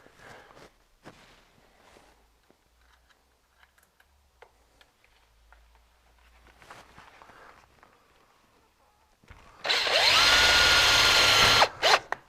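A power drill drives a screw in one loud continuous burst near the end while a Snirt Stopper bottom seal is fastened in place, preceded by quiet handling clicks and taps.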